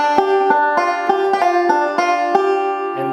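Banjo playing a fingerpicked phrase of a tune with a slide, bright plucked notes struck in a steady rolling rhythm over ringing harmonics, close and clear with no talking.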